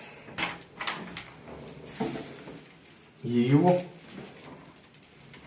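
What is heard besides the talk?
creaking butterfly door hinges after greasing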